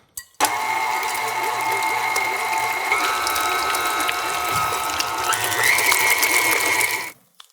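An electric mixer whirs steadily while combining garlic clam dip in a bowl, starting at low speed and stepping up in pitch twice. The motor runs close and loud without a break for about seven seconds, then stops.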